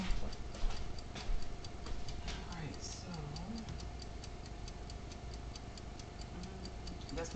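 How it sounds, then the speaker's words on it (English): A kitchen timer ticking steadily during late-night baking of a red velvet cheesecake, a faint regular tick repeating evenly throughout, with a person talking softly over it. "that's the timer ticking"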